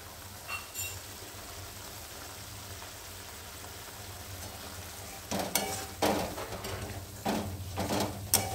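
Water from soaking cashews poured into spices frying in a pan: a quiet low sizzle at first, then bursts of loud crackling and spitting as the liquid hits the hot oil, close by.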